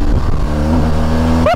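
A 2021 BMW R1250RT police motorcycle engine hums loudly and steadily while riding, its pitch rising as the rider revs it near the end.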